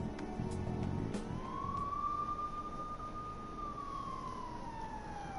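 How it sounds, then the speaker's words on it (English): In the video game Persona 5 Royal, police car sirens wail with a single rising and falling tone that sustains over a busy background hum, starting after a few brief knocks, with no speech. "Look at all those police cars."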